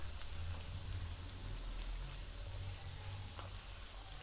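Sabudana and potato triangles frying in oil over a medium flame make a steady, even sizzle, like soft rain, that continues close and unbroken throughout.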